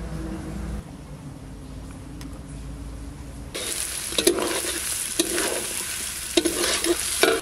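Mutton curry fries in a pan as a spoon stirs it, a near, steady sizzle punctuated by repeated scraping strokes, quieter at first and then louder and more vigorous.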